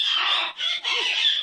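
A pet bird squawks loudly and close up in harsh, shrill bursts, with two short breaks between the calls and no talking over them.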